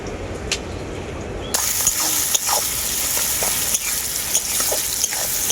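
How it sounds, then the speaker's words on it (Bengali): Chopped onions sprinkled with salt sizzle steadily in hot oil in a pan, the frying growing louder midway as they are stirred, with scattered scrapes and clicks and no voices. "পেঁয়াজটাকে আমি খুব ভালো করে ভেজে নেবো"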